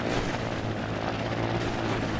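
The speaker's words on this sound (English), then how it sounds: "the designers of this game didn't really design this to be adequate for flying a helicopter" A player-built helicopter in the video game Trailmakers gives off a steady, dense rotor and engine drone that stays loud and unbroken throughout, with no talk over it.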